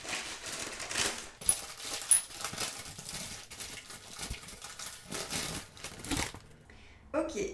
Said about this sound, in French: j'ouvre le colis. C'est toujours très bien emballé.